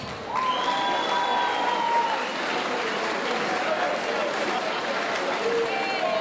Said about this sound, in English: let's have a round of applause for Jack and Jack.